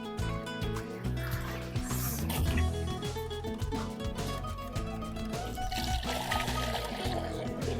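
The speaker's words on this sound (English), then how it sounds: "we're done with pouring our water into the drinking jars" Water pours and trickles into poultry drinking jars on a small farm, with birds clucking and calling nearby and background voices.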